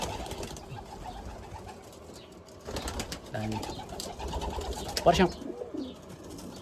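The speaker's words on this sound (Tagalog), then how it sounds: "Mga kalapati siya pero magagandang kalapati." Pigeons cooing at a resort in Saudi Arabia, soft and fairly close, while a person talks over the birds.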